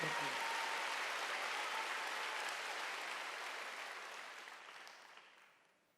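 A congregation at a Wednesday church service applauds with a broad, dense wash of clapping that starts at full strength and then fades steadily to near silence over several seconds.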